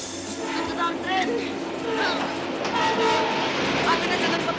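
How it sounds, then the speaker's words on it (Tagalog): A train rolls along railway tracks with a sustained rumble and rising clatter, a horn-like tone sounding over it as it draws nearer, with voices heard under the noise. "Ito na ang tren!"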